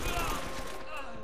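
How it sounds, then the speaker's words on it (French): Gunfire aimed at the player in Uncharted: Drake's Fortune, a dense burst of shots and game noise at a customs post, steady and loud throughout with voices mixed in. "J'ai l'impression qu'on me tire dessus, d'ailleurs, non?"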